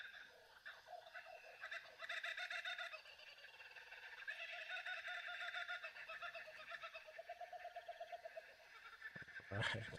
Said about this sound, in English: I think the jungle birds like the drawing.